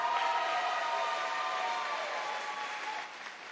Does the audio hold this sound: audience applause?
yes